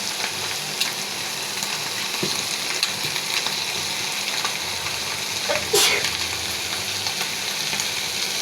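Potatoes dropped into a pan of oil where whole hilsa fish have just been fried, giving a loud, continuous sizzle with a brief sharp spatter burst partway through and light stirring clatter.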